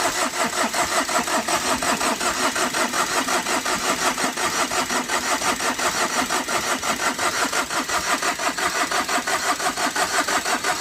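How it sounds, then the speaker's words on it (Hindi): A Tata Vista car engine cranking on its self-starter, with a steady, rapid churning rhythm that runs loud and close for about eleven seconds without catching, the engine reportedly jamming after overheating. "ये देखिए सेल्फ इसमें से फंस रहा, मतलब इंजन जाम हो रहा है।"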